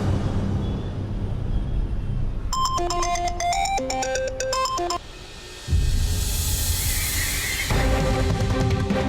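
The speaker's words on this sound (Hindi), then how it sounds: "गेंदा फोन क्यों नहीं उठा रही?" A melodic phone ringtone plays in a repeating electronic pattern over a low background rumble, then stops and resumes.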